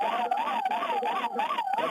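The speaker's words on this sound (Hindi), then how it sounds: "प्रवेश, एम्बुलेंस से थोड़ा दूर रहिए" Ambulance siren during a blackout mock drill in Ayodhya, Uttar Pradesh: a loud, steady wailing tone rising and falling in smooth regular cycles, close by and continuous throughout.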